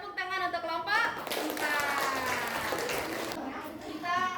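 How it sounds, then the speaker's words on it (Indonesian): A classroom of students claps for a student group after a physics lesson on parallel circuits, with a burst of clapping and children's voices mixed with the applause, the clapping rising and falling over several seconds. "Tepuk tangan untuk kelompok"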